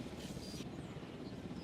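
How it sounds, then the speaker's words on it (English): A helicopter in the Jurassic World Evolution video game whirs steadily throughout, a low, continuous rotor drone at moderate volume with a brief hiss near the start. "We're going to get the AC helicopter here."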